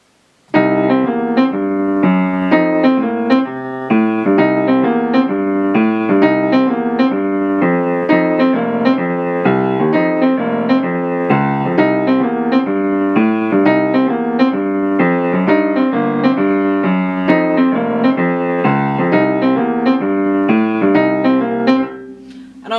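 Blues riff built on the minor third, root and seventh, played repeatedly over a blues sequence, as a sustained, steady melodic line that carries on alone for about twenty seconds.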